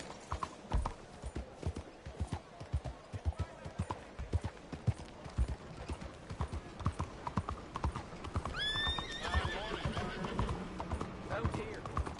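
A horse gallops in Red Dead Redemption 2 with a fast, steady drumming of hooves that fills the whole stretch. A loud neigh breaks out near the end.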